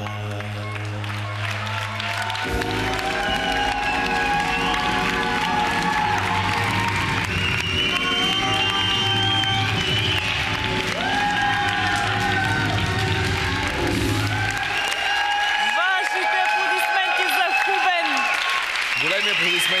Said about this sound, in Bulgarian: Големи аплодисменти за Хубен.